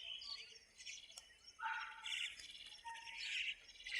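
Small birds chirp and tweet in bursts while a bird lover in Shembal Pimpri, Pusad, Yavatmal scatters feed for them, the calls fairly close and overlapping in a steady busy chorus.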